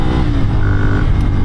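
A Ducati Monster 796 motorcycle engine runs close and loud, a throaty steady rumble with a brief rising rev in the middle.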